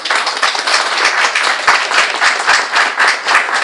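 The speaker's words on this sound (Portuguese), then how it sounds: "As palmas a gente endereça" An audience at a religious talk bursts into applause, a loud, lively patter of many hands clapping with quick rhythmic pulses throughout.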